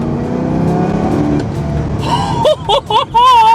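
A 2006 Ford GT's engine roars as it accelerates hard in first gear, a loud rising growl that climbs sharply in pitch toward the end with a tire squeal and whining revs.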